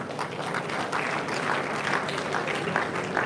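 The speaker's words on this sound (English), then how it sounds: "this round of applause for him, please" Many hands clap in a steady round of applause at a university town hall meeting with council members, a dense, fairly loud wash of clapping lasting a few seconds.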